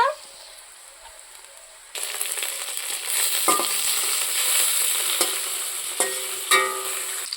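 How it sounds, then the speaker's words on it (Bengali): A low quiet start, then a sudden loud sizzle as chopped tomato hits hot oil with frying onions, hissing steadily with occasional clinks and scrapes of a spoon in the pan. "পেঁয়াজটা প্রায় ভাজা হয়ে গেছে। এবার আমি টমেটো কুচি দিয়ে দিব"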